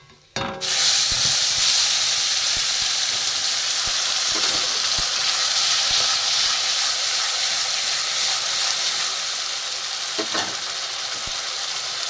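Spice paste hits hot oil in a pan with whole garam masala and bay leaves for a duck egg curry, bursting into a loud, steady sizzle and hiss that holds for several seconds with faint stirring clicks.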